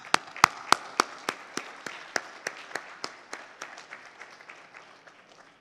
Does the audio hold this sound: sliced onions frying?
no